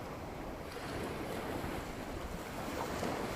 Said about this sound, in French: Laissez-vous porter par le bruit des vagues.